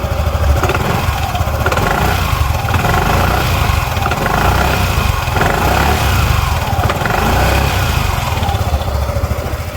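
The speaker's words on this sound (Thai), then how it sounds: "ลองฟังเสียงท่อใกล้ ๆ ตัวรถนะครับ ี้เดี๋ยวผมจะลองเล่นเครื่องนิดนึงนะครับ" A 2018 first-generation Honda Forza 300 scooter with its stock exhaust, about 10,000 km, runs up close as its engine is blipped, giving a loud, steady engine drone that continues throughout without any talk.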